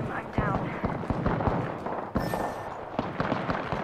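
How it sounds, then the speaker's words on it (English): Rapid gunshots and impacts from a battle royale shooter game, a steady crackle of repeated firing under continuous background game noise and chatter. "Who's shooting? Who's shooting?"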